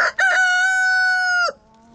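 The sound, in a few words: rooster crowing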